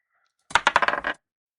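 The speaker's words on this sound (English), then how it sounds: "did grab a clip of dice rolling" A dice app plays a brief recorded clatter of three dice rolling: a quick burst of about eight sharp clicks and rattles over half a second, clear and close, with silence around it.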